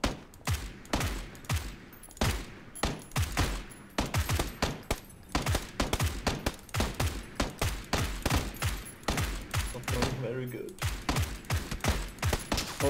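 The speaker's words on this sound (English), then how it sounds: "We're getting shot at." Gunfire in PlayerUnknown's Battlegrounds, rapid bursts of loud shots in an irregular, near-continuous rhythm, with voices talking faintly underneath.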